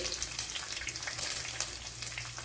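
Six or seven garlic cloves sizzle and crackle in hot oil with fenugreek and mustard seeds for a Kerala mackerel curry, a close, continuous frying hiss with bright pops.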